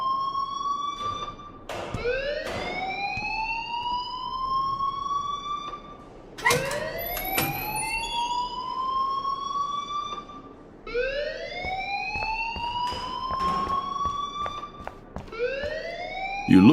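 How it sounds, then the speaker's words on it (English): Fire alarm wailing in the video game Life is Strange, sweeping upward tones repeating every few seconds like a siren, loud and steady, with scattered clicks and no speech. "please turn off that alarm since that's your job"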